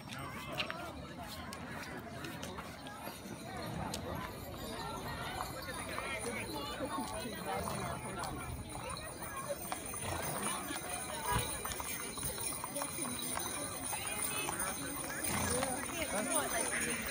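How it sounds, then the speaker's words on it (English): Horses walk in a parade outdoors, with a person dressed as Captain America riding one of them. Hooves clop on the pavement in a steady, uneven patter at moderate distance, under constant crowd noise and scattered voices. "Are you gonna go see the horse parade?"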